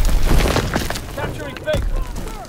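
A grenade blast in the WWII shooter Call of Duty: WWII, a booming explosion near the start followed by another thud, heard amid game voice callouts and battle noise.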